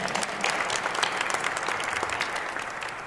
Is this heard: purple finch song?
no